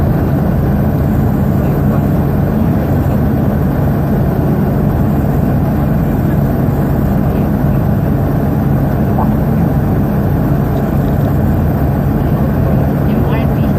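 Road traffic on Shaw Boulevard, Mandaluyong City, heard from inside a vehicle: a constant low engine hum and rumble, steady and close, with no clear events standing out.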